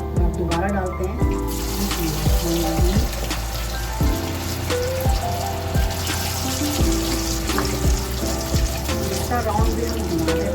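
French fries are lowered back into hot oil over a reduced flame for a second fry, setting off a loud, steady, close bubbling sizzle that runs throughout under a continuous crackle.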